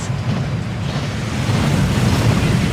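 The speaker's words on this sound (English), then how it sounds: "That waterfall washes away all enchantments." A waterfall rushes in the video game Hogwarts Legacy, a loud, dense, steady roar of falling water that grows slightly stronger midway, with no speech.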